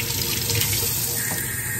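Tap water runs steadily into a sink as potatoes are washed, a continuous close hiss and splash of moderate loudness that holds even through the short stretch, with no voices over it.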